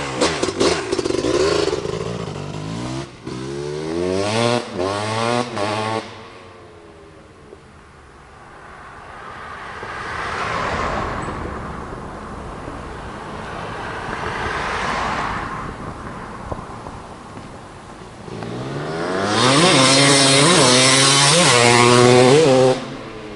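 A 2000 Kawasaki KX250 two-stroke dirt bike revs hard up close, with sharp rising throttle blips at the start, a quieter idle and distant engine drone through the middle, and another loud rev near the end, with wind noise on the microphone.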